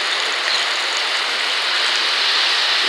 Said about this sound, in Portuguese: Aqui também tá chovendo muito.